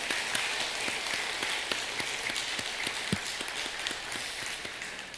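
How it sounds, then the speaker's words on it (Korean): Korean church congregation applauding together during a Sunday worship service, a dense, steady wash of many hands clapping at moderate volume for several seconds, with no talk over it. "우리 같이 모두 함께 감사의 박수를 한번 올려드리겠습니다"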